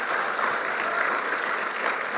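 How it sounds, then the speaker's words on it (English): Camp audience giving a round of applause for the speakers, steady dense clapping from a sizable group, even in loudness throughout. "Let's give another round of applause for our speakers"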